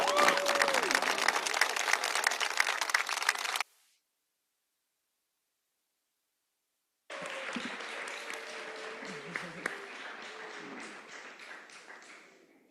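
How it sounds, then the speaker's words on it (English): Parents clap for children at a school board business meeting, a burst of applause that stops abruptly, then after a silent gap another round of clapping resumes with scattered taps. "parents, if you can, clap it up for the kids on this great day"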